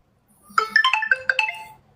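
An incoming-call ringtone on a phone plays a bright, melodic run of electronic tones for about a second and a half, loud and close, with no talking.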